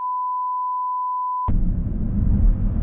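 A steady electronic beep holds for about a second and a half, then cuts off abruptly as a phone call ends in a car, leaving a low rumble of road and cabin noise.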